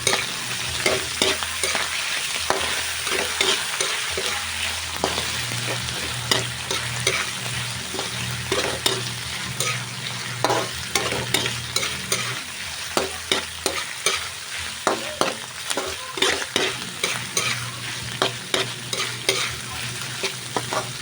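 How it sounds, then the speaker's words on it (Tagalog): Shrimp sizzle in a hot pan for a mung bean and bitter melon dish while a utensil stirs and scrapes in repeated, uneven strokes, the frying hiss steady underneath and no voices present. "ihalo na natin ang hipon"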